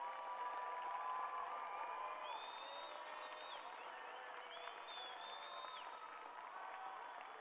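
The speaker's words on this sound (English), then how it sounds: "Let's have a big round of applause for all of our student athletes." Applause at a UCLA student-athlete graduation ceremony, a continuous wash of clapping from a large crowd, fairly distant and even throughout, with faint cheering and a few whistles rising above it.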